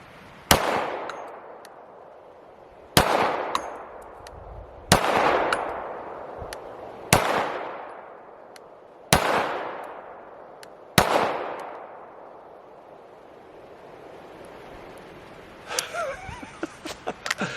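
Six sharp, loud pistol shots from a Canik Rival at a shooting range, spaced about two seconds apart, each followed by a ringing decay, then faint clatter near the end.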